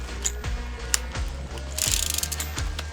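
Procraft PTA24 cordless trimmer's telescopic tube being adjusted, giving a series of close, repeated ratcheting clicks and clacks with a brief louder rattle near the end; no one speaks.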